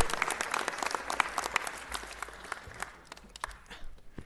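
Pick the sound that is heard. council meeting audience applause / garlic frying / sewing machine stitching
council meeting audience applause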